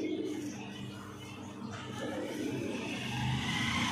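Pigeons coo in low, throaty murmurs over a steady bed of background noise and distant traffic.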